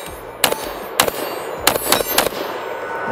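A Zastava ZPAP85 AK pistol fires at an outdoor range, sharp loud shots ringing out close by, first spaced singly, then a quicker string of four, each with a brief echoing tail.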